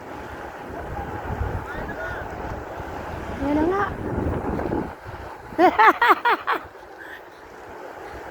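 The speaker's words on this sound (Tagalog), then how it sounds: "Ang lakas ng alon." Strong ocean waves roll and wash at Muriwai Beach, a steady churning surf with wind buffeting the microphone, while people talk and exclaim over it.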